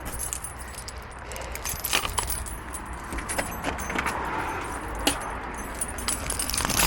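Keys jangle in a run of light, irregular metallic clinks, fairly close, over a quiet background of passing road traffic.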